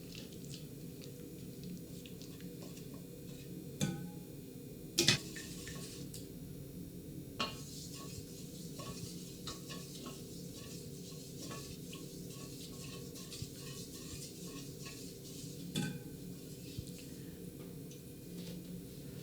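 A spoon stirs melting raw cacao butter in a pot, giving soft scraping and occasional light clinks against the metal over a steady low background hiss, fairly quiet throughout.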